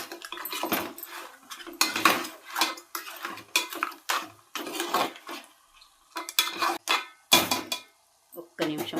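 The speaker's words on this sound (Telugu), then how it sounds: "ఇప్పుడు బాగా కలుపుకొని" A spoon clatters and scrapes around a pot in bursts while spicy crab curry seasoned with chili powder is mixed, with short pauses and a faint voice in between.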